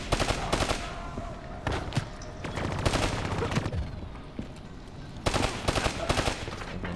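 Rapid automatic gunfire in the Call of Duty: Black Ops 3 campaign crackles in several loud, dense bursts separated by brief lulls, close and aggressive.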